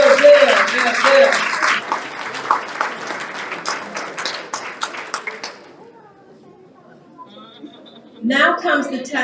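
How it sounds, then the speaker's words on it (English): A banquet audience at an awards dinner breaks into sustained applause, loud and close for several seconds, then fades to near silence before another burst of clapping mixed with voices. "Give a round of applause."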